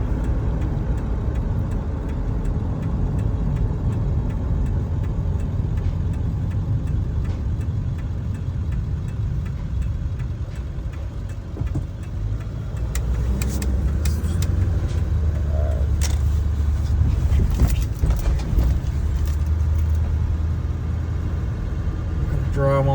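A high-mileage Ford F-250 pickup with 348k miles, hauling a heavy load of scrap, rolls onto a scale, its engine a steady low rumble with faint ticking for over twenty seconds, heard close.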